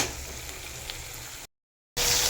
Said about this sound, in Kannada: ಈರುಳ್ಳಿ ಮತ್ತು ಹಸಿಮೆಣಸಿನಕಾಯಿ, ಕರ್ಬೇವಿನ ಸೊಪ್ಪು ಇದಿಷ್ಟನ್ನು ಹಾಕ್ಕೊಂಡು ಚೆನ್ನಾಗಿ ಫ್ರೈ ಮಾಡ್ತಾಯಿದ್ದೀನಿ